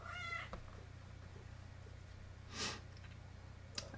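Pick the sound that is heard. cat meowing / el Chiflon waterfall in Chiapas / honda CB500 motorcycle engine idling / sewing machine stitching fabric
cat meowing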